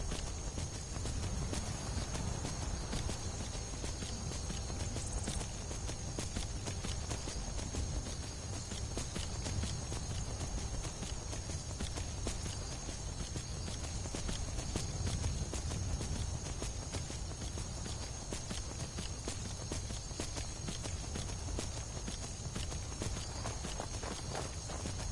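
Horse hooves clip-clop in a steady walking rhythm in Skyrim, continuous over a constant wash of game ambience, fairly close and unbroken for the full stretch.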